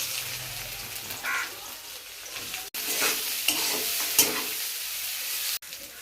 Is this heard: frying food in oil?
yes